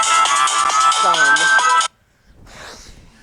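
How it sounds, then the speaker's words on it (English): A phone ringtone plays loud and close, a bright repeating electronic melody lasting about two seconds before cutting off abruptly, followed by faint rustling. "I gotta change my ringtone"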